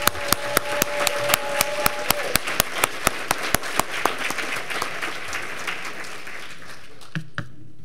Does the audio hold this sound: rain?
no